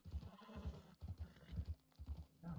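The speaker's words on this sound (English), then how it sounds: "My horse sounds a bit upset." A horse in the video game Red Dead Redemption snorts and whinnies while hooves clop in an uneven rhythm, fairly close, with a quiet low rumble in the background.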